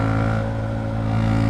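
A manual motorcycle in third gear climbs uphill with a steady, droning engine note under throttle, close and continuous for a brief moment without talk.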